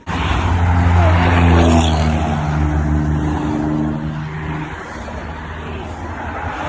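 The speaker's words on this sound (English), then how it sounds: "did your car just backfire?" An Audi car engine idles and revs with a loud harmonic drone that drops off after a few seconds, then settles into a rougher, quieter running sound, close by and without talk; the backfire itself is not clearly distinct.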